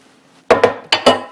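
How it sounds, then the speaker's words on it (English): Chopped tomatoes for gazpacho are dumped into a blender jar, landing as four loud, close thuds and clatters in two quick pairs against the hard jar. "just go ahead and dump them in your blender"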